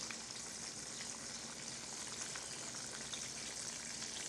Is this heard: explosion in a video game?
no